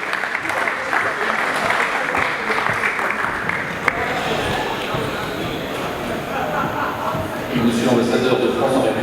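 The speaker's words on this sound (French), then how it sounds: "Sous vos applaudissements, s'il vous plaît." A prize-giving ceremony audience gives loud, sustained applause, a dense roar of clapping that carries on with a murmur of voices mixed in and swells again near the end.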